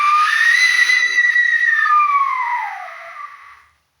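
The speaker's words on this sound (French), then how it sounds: "On va tester le sifflet de la mort." A death whistle is blown in an abandoned manor, letting out a loud shrill screeching wail that holds for about two seconds, then slides down in pitch and fades out, with no talk.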